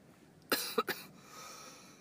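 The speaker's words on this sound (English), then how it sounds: "It's a very severe cough." A severe cough from a man: a harsh burst followed by two quick rougher hacks, close and fairly loud, then fading to faint breathing.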